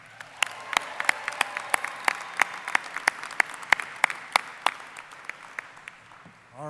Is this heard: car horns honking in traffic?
no